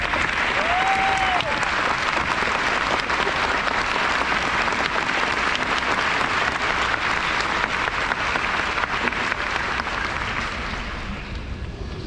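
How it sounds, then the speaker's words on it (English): An audience at a Marine graduation ceremony applauds in a dense, steady roar of clapping that continues for the whole stretch, loud and sustained, tapering slightly at the very end. "Please join me in a round of applause for that."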